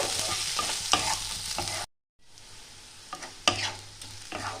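Onion, ginger, garlic and cashews frying in a pan, a close sizzle broken by a brief silent gap, with sharp stirring scrapes and clinks returning afterward.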